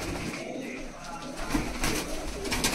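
A Malwai pigeon coos softly nearby, low throaty calls repeating over a few seconds amid faint background noise.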